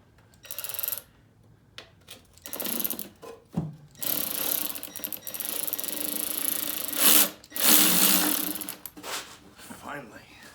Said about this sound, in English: this is the last bolt of the oil pan, and I couldn't get off because the motor mount was in the way